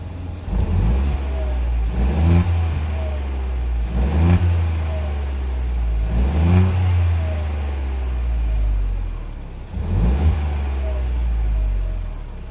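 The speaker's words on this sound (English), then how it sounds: "So that's what the car sounds like in the back." A stock Ford Fiesta Zetec S engine revs up repeatedly, several throaty exhaust bursts every couple of seconds over a steady idle rumble, heard from the rear.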